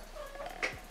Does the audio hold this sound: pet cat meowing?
yes